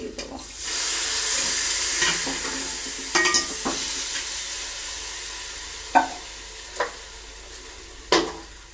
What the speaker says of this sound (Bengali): আলুগুলো দিয়ে একটু নাড়াচাড়া করে আবার হচ্ছে জল